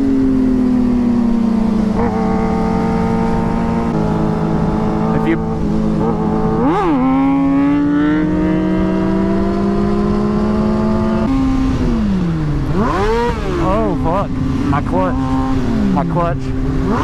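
A motorcycle engine revs hard and loud during a wheelie, pitch climbing and dipping repeatedly with throttle changes, close up throughout with wind noise.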